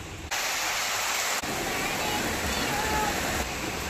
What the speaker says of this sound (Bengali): বৃষ্টির শাসা আওয়াজ, টাপ টুপ করে বৃষ্টি হতেই আছে